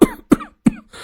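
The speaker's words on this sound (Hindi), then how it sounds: "जो बहू को देखकर खांसने लगते हैं।" A cartoon father-in-law gives three short, harsh coughs in quick succession, close and clear, with brief silent gaps between them and no other sound.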